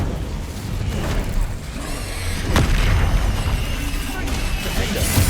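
Spell effects from the video game Hogwarts Legacy on PC: the fire spell Incendio is cast amid other combat spells, giving dense booms, crashes and whooshing blasts in quick succession, with a voice speaking over the din.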